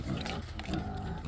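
Pigs on a family farm grunt and snort in short rough bursts, close by, over a noisy outdoor background.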